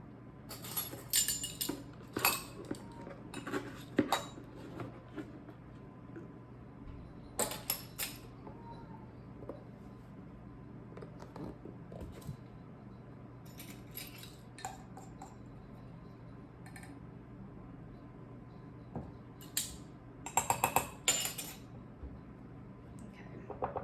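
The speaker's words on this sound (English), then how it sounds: "So I'm going to grab a fork. Got a fork." A fork is picked up from among other cutlery in a kitchen, with scattered metallic clinks and rattles in several bursts separated by quieter handling noise.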